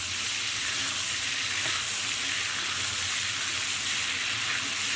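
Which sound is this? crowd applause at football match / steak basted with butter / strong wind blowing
steak basted with butter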